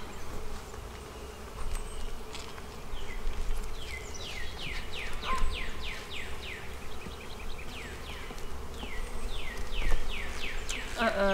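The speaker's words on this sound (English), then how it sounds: "I see some big bees, but I think they're drones." Honeybees, including big drones, buzz around an open beehive, their overlapping wingbeats forming a continuous near hum with individual bees swooping close and away.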